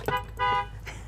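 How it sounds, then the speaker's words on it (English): A horn sounds inside a 2024 Renegade Valencia 36SB motorhome, giving two short harmonic blasts close by, then a fainter third one. "Got your air horn or"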